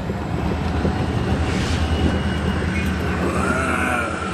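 Trains rumbling along Canadian Pacific tracks, a steady, broad rolling roar of rail cars heard from a moderate distance with faint higher squeals near the end and no talk.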